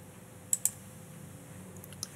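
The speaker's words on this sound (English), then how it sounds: "So we'll type another B, click the selector tool" A few light keyboard taps in LightBurn, two close clicks followed by a couple of softer ones, quiet against a faint steady hum.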